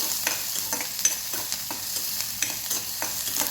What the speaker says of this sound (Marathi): लसूण सुद्धा घालायचं आहे आपल्याला मिक्स करायचं आहे छान